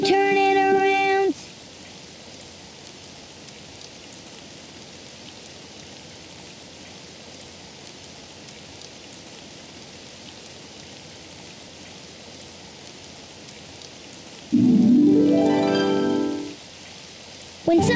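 Steady rain falls outside in a children's cartoon, a soft even patter running under brief stretches of voice at the start and end.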